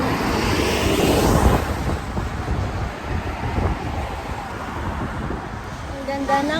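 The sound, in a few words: strong wind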